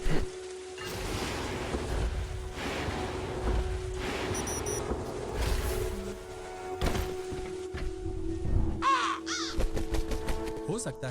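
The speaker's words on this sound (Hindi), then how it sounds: "हो सकता है ये वाकई कौवे हों, है ना?" Crows caw repeatedly in the video game Fractal Space, harsh calls layered over a steady droning game ambience with occasional mechanical sliding sounds and brief chirps.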